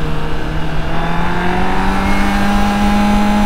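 Honda motorcycle with E-Clutch cruising along, its engine giving a loud, steady drone with a persistent vibrating hum and no speech over it.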